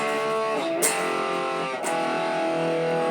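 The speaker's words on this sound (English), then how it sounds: "It's all just power chords, and it sounds like this." Distorted electric guitar power chords from the outro of a song, two loud sustained chord strikes ringing out with thick overdriven harmonics and no talking.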